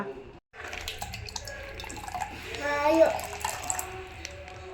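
Water runs from a tap while a child is being bathed at home, a steady splashing flow close by, with voices talking over it.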